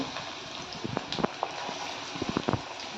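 Onion dropped into hot oil in a kadai gives a bubbling, crackling fry up close, with scattered pops and spits over a steady sizzle.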